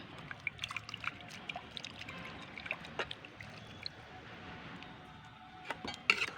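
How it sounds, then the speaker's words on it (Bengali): Water from rinsing a mixer jar poured into broccoli cooking in a pan, a soft trickling pour with scattered splashes and light clinks, faint and close, with no talking. "মিক্সি ধোয়ার জলটা দিয়ে দিচ্ছি।"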